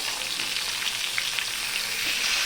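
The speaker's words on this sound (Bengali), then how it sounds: "মাছ ভাজাটা করে নিয়ে তারপরে স্নান করব" Fish sizzling in hot oil in a home kitchen pan, a dense continuous hiss with small spits and crackles throughout, close and steady, no talking.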